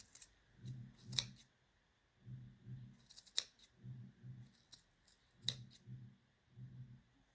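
Scissors cut woolen yarn while a baby cap pom-pom is made, giving a steady rhythm of repeated close snips and soft blade rasps over a faint low hum, with no talking.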